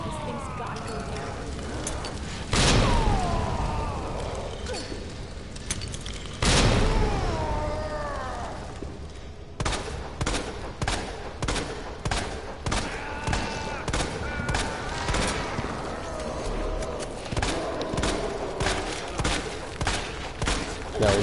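Grenade blasts and bursts of gunfire from Resident Evil 2 Remake: two heavy booming explosions early, then a rapid run of repeated shots in a regular rhythm, loud and close in the game's mix.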